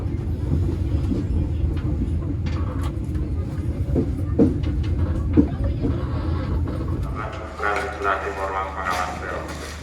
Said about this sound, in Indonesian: saya naik kereta api ekonomi lokal dari stasiun Pucuk masuk di jalur 1